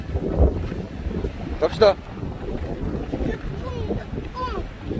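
Strong wind gusts outdoors and buffets the microphone with uneven rumbling bursts, while voices speak briefly over it.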